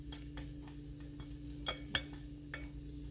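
Food being flipped over once in a frying pan, heard as several soft utensil scrapes and clinks with one sharper knock, over a faint steady background hum.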